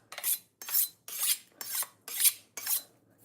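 A knife drawn through a pull-through sharpener six times in an even rhythm, each stroke a short, bright rasping scrape up close in a quiet room, no voices.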